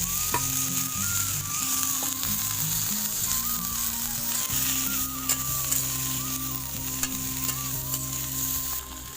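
Boiled corn kernels sautéing in a pan, a close steady sizzle with repeated stirring scrapes and clinks throughout.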